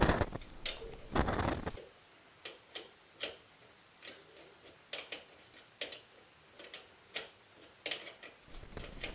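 A tool working loose the caliper slide bolt on a Corvette C6 rear brake gives a run of quick, faint ratcheting ticks at an irregular pace, with a brief scraping burst at the start.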